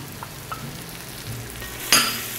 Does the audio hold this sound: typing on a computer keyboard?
no